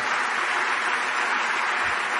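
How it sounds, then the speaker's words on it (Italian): An audience applauding in a hall: steady, dense clapping that holds at an even level throughout, with no voices over it. "Perché applaudite?"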